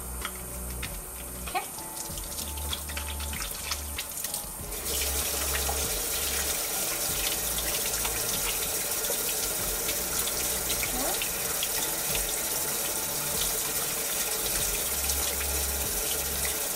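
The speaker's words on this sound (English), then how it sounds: "Okay, wash your hand really good, okay? For the COVID-19, okay? Plenty of soap." Tap water running into a sink during handwashing with plenty of soap, a steady close splashing stream that grows fuller and louder partway through and then runs continuously, with no speech.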